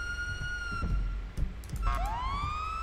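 A police car siren in GTA 5 with the LSPDFR mod wails in steady tones, cuts out briefly with a few thumps, then sweeps back upward over a low engine rumble.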